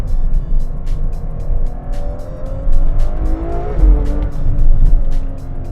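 A 2019 Ferrari 812 Superfast's engine and exhaust drone loudly from inside the car while driving, the pitch climbing and shifting through revs with a rising surge near the end, steady and unbroken with no talking.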